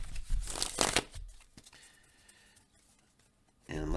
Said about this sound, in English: And let's cut the deck.